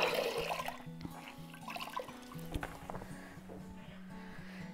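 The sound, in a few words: water rinsing a painted furniture piece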